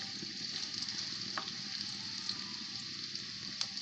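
Masala with kalonji (nigella seeds) cooking in a pan for a mushroom sabzi, heard as a faint, steady frying hiss with occasional small crackles and clicks.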